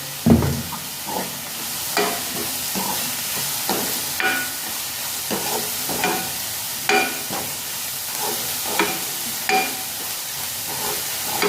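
Onions frying in a pan for egg bhurji, a steady close hiss with repeated scraping stirs every second or so and no talking.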